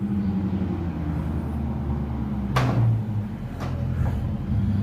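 A car pulls up at home outside a garage, its engine rumbling steadily in the background, with a couple of sharp knocks partway through and no talking.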